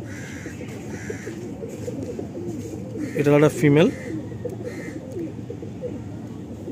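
Madrasi pigeons give a low coo, with one louder burst near the middle, over someone speaking steadily close by.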